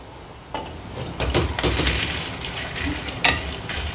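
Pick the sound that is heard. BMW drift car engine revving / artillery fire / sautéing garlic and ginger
sautéing garlic and ginger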